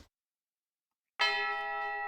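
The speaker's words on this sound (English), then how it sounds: "the bell rang" A school bell rings in the visual novel Root Double after a short silence, striking once and then holding a bright, sustained tone that does not fade, clear and alone with no voices.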